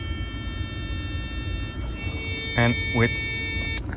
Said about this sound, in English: you can see the LED light and you really clearly hear the buzzer